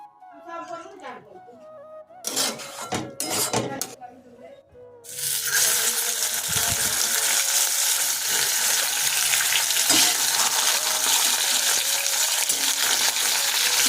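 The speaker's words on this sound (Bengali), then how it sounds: "একটু বেশি ভাজা হয়ে গেল মাছটা" Fish fries in hot oil, a loud, steady sizzle that starts abruptly partway through and runs unbroken to the end, after a stretch of people talking and some clattering.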